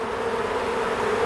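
Honey bees buzz in a steady, loud drone close by while a hive is opened for its first inspection after a cold Texas winter, the hum continuous with no voices.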